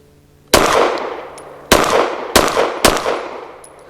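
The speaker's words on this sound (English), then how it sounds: "It's really soft shooting." Four sharp shots from a BRG9 Elite Gen 2 9mm pistol at a range, loud and close, the first alone and the last three in quicker succession, each with a ringing decay.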